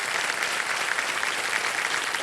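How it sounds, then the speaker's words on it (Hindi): A television quiz show studio audience applauds with dense, steady clapping that holds at an even level throughout, with no one speaking over it. "उनके लिए ताली बज जाओ।"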